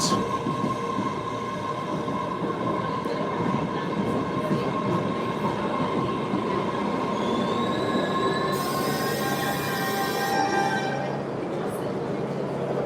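A Mattapan line trolley train rolls along the track with loud sustained high-pitched wheel squeal, layered tones shifting over a steady rumble of the rail car, close and continuous throughout.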